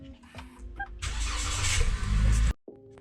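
A car engine cranks and catches at about one second, then revs and runs loudly for a moment as the car is driven out, cutting off sharply near the end with faint sounds after.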